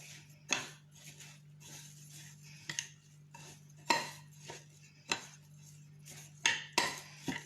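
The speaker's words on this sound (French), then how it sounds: "Je continue à mélanger." A utensil stirs a couscous stuffing mixture with orange juice in a bowl, giving sparse, irregular clinks and scrapes against the dish over a low steady hum, with no talking.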